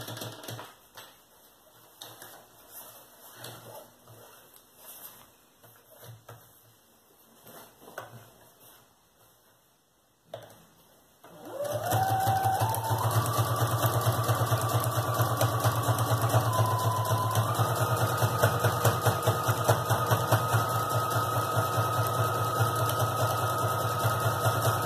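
A sewing machine stitches a zigzag seam on a children's backpack, a fast, steady mechanical whirring rattle that starts after a quieter stretch and then runs continuously up close.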